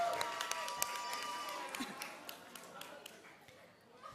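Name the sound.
audience applause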